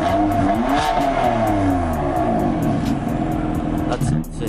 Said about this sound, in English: he's gonna keep it running for a quick second and then he's gonna start revving it